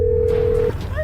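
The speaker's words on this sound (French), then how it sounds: "tu entends le téléphone" A telephone rings with a single steady electronic tone that holds for under a second and then cuts off, followed by faint rising chirps over a low background hum.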